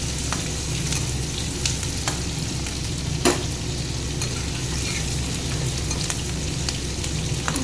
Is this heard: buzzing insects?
no